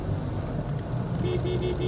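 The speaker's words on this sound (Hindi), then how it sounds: "हॉर्न थोड़ा सा ऐसे दबा दबा सा लगता है" A Skoda Slavia 1.5 car horn, muffled and low, giving three short, faint honks in quick succession near the end over a steady hum of road and cabin noise.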